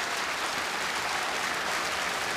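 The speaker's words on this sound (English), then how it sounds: "the crowd on their feet clapping it" Standing crowd clapping at the 2019 World Indoor Bowls Championships final, dense sustained applause at an even level throughout, fairly distant and with no talk over it.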